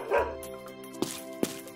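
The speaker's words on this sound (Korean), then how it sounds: "히잉, 멍멍, 응매, 동물들도 예수님의 탄생을 축하하네요" A dog barks a few times in a stable scene of an animated Nativity story. The short yips and barks come up close and clear, set against a faint tonal background.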